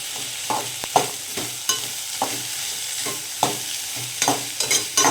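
Chopped onions and garlic frying for egg roast, a continuous close sizzle with repeated scraping stirs and light utensil knocks against the pan.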